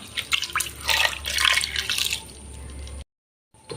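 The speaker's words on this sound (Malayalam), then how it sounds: "ആവശ്യത്തിനുള്ള വെള്ളം ഒഴിച്ചു കൊടുക്കാം" Water pours into a pressure cooker holding yam pieces and salt, a close, splashy trickling for about three seconds that cuts to silence, then briefly resumes.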